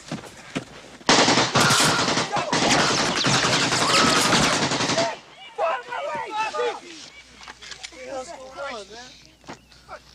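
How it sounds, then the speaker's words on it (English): Tokyo Marui AKM airsoft rifle firing a loud sustained automatic burst for several seconds, followed by a voice talking with scattered clicks and movement. "This is the AK-47 assault rifle, the preferred weapon of your enemy, and it makes a distinctive sound when fired at you"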